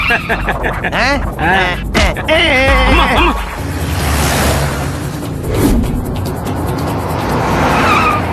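A car speeds along with a rushing engine and a brief skid of tires, loud and close, mixed with voices and other scene sound.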